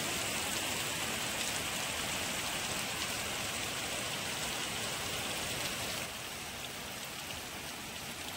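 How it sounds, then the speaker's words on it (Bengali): Heavy rain falls steadily outdoors while floodwater rises up to a doorway, an even, continuous hiss of drops on surfaces that eases slightly near the end. "আর বৃষ্টি হচ্ছে খুব জোরে জোরে"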